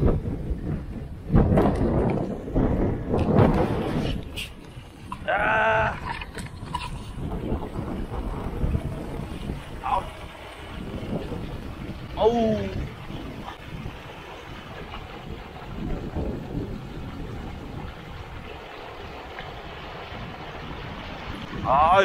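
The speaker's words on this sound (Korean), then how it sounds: "바람 겁나 부네 진짜" Strong winter wind buffets outdoors in a low, roaring rumble that surges and fades, with a voice speaking briefly over the gusts.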